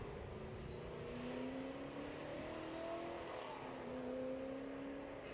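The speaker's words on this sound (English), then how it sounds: "And here comes the big block XR Falcon." A big block Ford XR Falcon runs at the Historic Leyburn Sprints grassroots motorsport event in Australia, its engine droning and rising in pitch as it accelerates, heard faint and distant under steady background noise.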